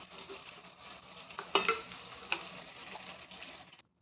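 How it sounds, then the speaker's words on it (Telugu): Tamarind juice poured into a simmering fish curry, a soft bubbling and liquid splash with a brief louder pour in the middle, faint and close, no talking. "చింతపండు పులుసు పోసాను"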